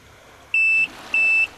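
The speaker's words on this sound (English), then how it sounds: "you hit the unlock button," Two clean electronic beeps, evenly spaced and identical, ring out from the remote unlock of a 2011 Yamaha VX Series WaveRunner against quiet background noise.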